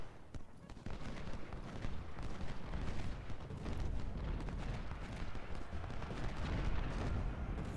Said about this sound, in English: that's gonna be a point-blank volley